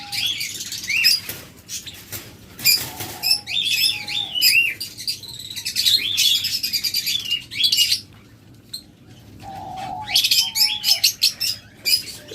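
Many budgerigars chirp and warble busily together, a dense, continuous twittering chorus with brief pauses, fairly close.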